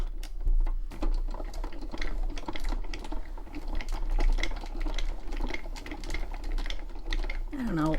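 A hand-cranked crafting machine pressing material through, producing rapid clicking and ratcheting patter that keeps up steadily, with a person talking over it.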